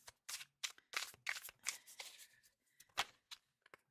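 Tarot cards shuffled by hand in a series of quick riffling bursts and soft slaps, close and fairly quiet, with brief pauses between passes.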